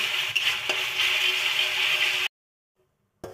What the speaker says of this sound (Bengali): আদা বাটা রসুন বাটাটা ভালো মতো কষাই নিব যাতে আদা রসুনের গন্ধটা না থাকে